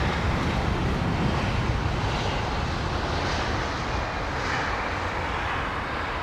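Aircraft engines roar steadily at London Heathrow Airport, a loud, continuous broadband rumble with no voices.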